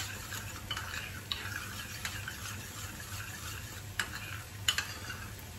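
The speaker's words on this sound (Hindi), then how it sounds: "पानी डाल के अच्छे से मिक्स कर देंगे" A spoon stirs a cornflour and water mixture in a bowl, giving a faint, soft swishing with occasional light clinks of utensil against the vessel.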